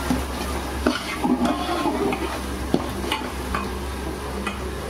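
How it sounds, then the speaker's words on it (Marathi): Chopped onion being stir-fried in a pan for kande pohe, a steady close sizzle with occasional scraping and stirring clicks from the spatula. "आता लालसर होत झालाय आपला कांदा, पण अजून परतून घ्यायचे आपल्याला।"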